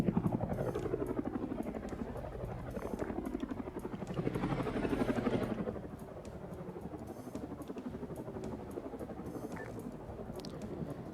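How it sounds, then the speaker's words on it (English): A rocket-pod-armed helicopter in a video game hangar test, rapid rotor chopping pulses loud at first, then dropping to a quieter steady thrum, with no talking. "I need a helicopter."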